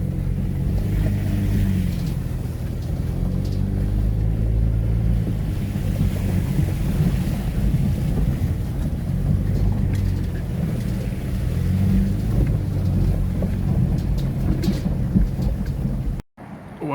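Loud, continuous rush of churning floodwater with a deep low roar, steady throughout, cutting off abruptly at the end.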